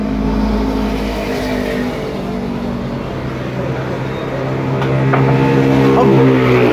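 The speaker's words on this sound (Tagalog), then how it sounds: "Lakas tumakbo yung mga motor dito, mga idol. Ngiingay yung mga Tambotso." Motorcycles with loud exhausts race at an outdoor event in Negros Oriental, making a continuous engine drone that swells as they rev and pass close by, while someone talks over it.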